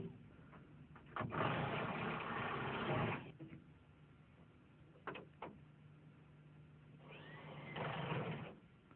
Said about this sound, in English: screwed tight with the impact wrench